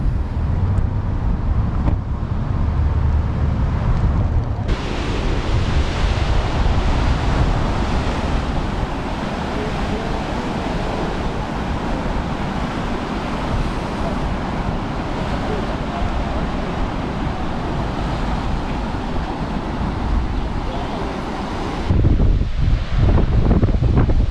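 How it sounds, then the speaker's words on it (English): Ocean waves and wind at Halona Beach Cove, Hawaii, a rocky shore by hardened lava flows: a constant loud roar of surf mixed with heavy gusts buffeting the microphone, with no talk. "I'm at Halona Beach Cove right now, aka Eternity Beach."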